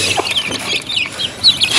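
Chickens, aseel fowl among them, cluck and squawk in a series of short, close calls during feeding time at a bird enclosure, with sharp chirpy bursts near the end.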